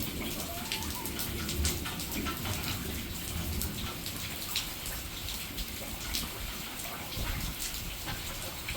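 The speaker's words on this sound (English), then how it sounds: "It's too much rain." Heavy rain falls steadily outdoors where puppies and chickens are kept, a dense, constant hiss of drops hitting the ground and nearby surfaces for the whole stretch, close and even with no voices.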